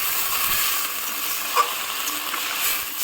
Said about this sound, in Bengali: যখন আমি জলটা দেব তখন যেন একদম কড়াইটা খুব গরম থাকে একদম